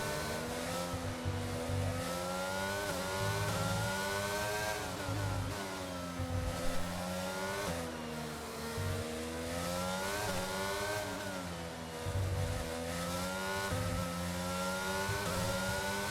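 An F1 car engine screams at high revs in F1 22, racing a lap at Singapore on reduced tyre pressures. Gear changes and rising and falling pitch continue throughout, loud and close with no talk.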